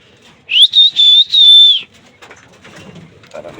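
A racing pigeon in a loft lets out a close, loud drawn-out whistling call in several linked bursts, then the loft settles into quieter faint rustles and murmurs.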